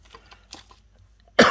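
A single harsh cough bursts out loudly at the end, after a stretch of quiet small tapping and handling noises at a jewelry crafting table.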